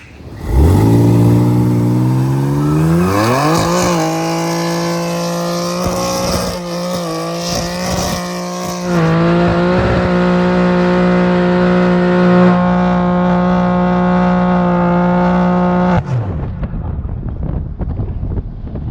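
Twin-turbo 2024 GMC truck accelerating hard and loud up close, engine note climbing and dropping through repeated gear shifts with strong wind rush, then lifting off near the end.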